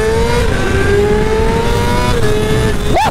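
A Kawasaki ZX6R engine revs hard through a loud exhaust, climbing in pitch with a sharp blip near the end.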